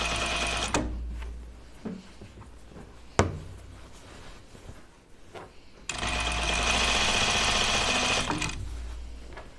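Sewing machine stitching the center back seam of a coat, short bursts of motor whir broken by pauses and a sharp knock, then a longer steady run of stitching close up, with no talk.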